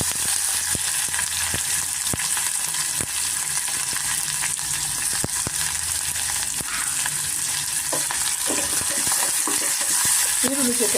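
Onions frying in oil in a pan with bay leaf, a dense continuous sizzle with scattered light clicks and stirring, close and steady throughout.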